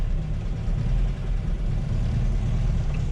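An old custom VW Baja engine rumbles at a low, steady idle, close and continuous with a brief dip partway through.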